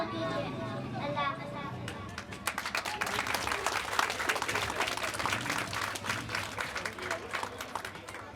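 An audience at a Montessori school annual prize-distribution ceremony breaks into applause, with scattered claps building after a couple of seconds into steady, fairly distant clapping mixed with crowd murmur.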